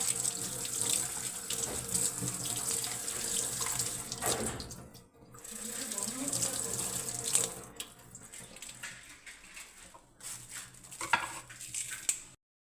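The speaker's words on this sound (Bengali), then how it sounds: "দেখুন বন্ধুরা জলে ধুয়ে নিচ্ছি পাতাটা" Tap water runs over coriander leaves being rinsed at a kitchen sink, a steady close splashing stream with brief pauses and clinks of dishes, ending in a few sharp knocks.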